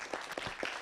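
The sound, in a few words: audience applause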